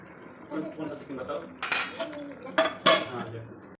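Metal wok and utensils clatter and clink in a few sharp bursts while jackfruit boils in the wok, close by, over a low background of kitchen noise.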